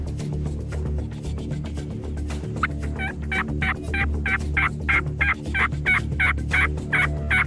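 Rio Grande wild turkeys gobble repeatedly in a fast rhythmic series of bursts as they approach decoys, growing louder midway, over a low steady background hum.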